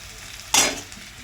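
Onions fry in a pan under a quiet, constant sizzle, broken halfway through by one short, sharp scrape-and-hiss burst as they are stirred, then settling back; close by, with no voices.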